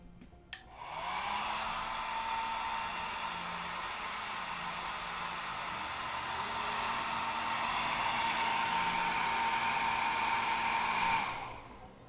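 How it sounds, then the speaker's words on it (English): A hair dryer switches on and runs with a steady whooshing whir for about ten seconds, then switches off. It is close and moderately loud, with no talk, and it is being used during a terrain crafting project. "So Tina, here was my solution for the hairdryer instead of blowing stuff everywhere"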